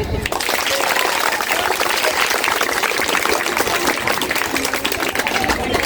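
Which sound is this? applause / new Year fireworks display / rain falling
applause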